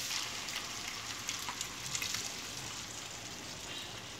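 A steady, faint sizzle of boiled chana dal added to a hot Indian tempering in a pan, a continuous hiss with small crackles, no voices.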